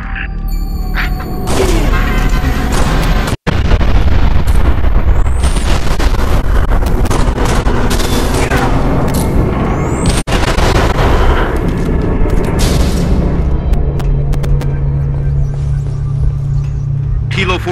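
Artillery barrage of final protective fire in Halo Reach's Exodus mission: a loud, continuous roar of heavy blasts and deep booms rolling on for many seconds, broken by two brief dropouts.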